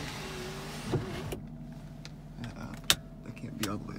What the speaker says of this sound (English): Sunroof still works